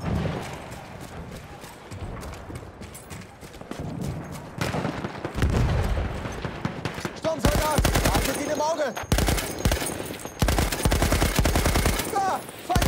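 Bursts of MG08/18 machine-gun fire in a video game battle at Fort de Vaux, rapid rattling volleys growing louder and denser in the second half, with shouted voices and combat noise around them.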